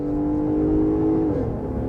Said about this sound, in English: Wow, it revs pretty high.